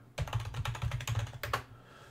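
Rapid typing on a computer keyboard while entering a search for Red Alert 3 maps, a dense run of close, quiet key clicks lasting about a second and a half, with no talking.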